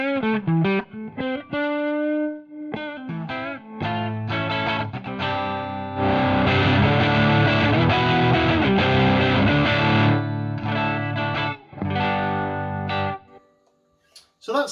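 An electric guitar runs through a VS Audio Royal Flush overdrive pedal set to its low-gain channel. Single notes open the passage before it moves into chunky, mildly driven chords and riffs, close and alone.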